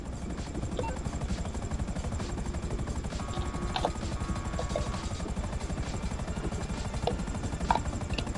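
Police helicopter in the GTA V video game, its rotor beating in a steady dense chop throughout, loud and close, with faint scattered game effects above.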